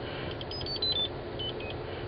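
A few short electronic beeps from a taxi keypad, quick and close, over a low background rumble.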